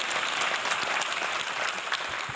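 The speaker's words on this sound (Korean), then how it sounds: "아내한테 박수 한번 해줘요." Church congregation applauding during a sermon, a brief, steady round of many hands clapping together, moderately loud and even.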